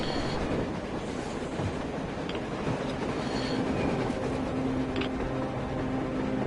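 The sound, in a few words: train passing, from a video game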